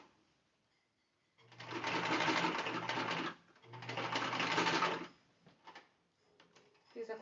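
A sewing machine stitches around a fabric car trash bag with pockets in two loud, steady bursts of rapid whirring, separated by a short pause and followed by light handling noises.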